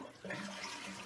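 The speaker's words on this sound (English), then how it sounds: "Flush it one more time." Household toilet with its tank being drained before a flapper replacement flushes, a steady rushing, gurgling water sound held throughout, moderately quiet and close.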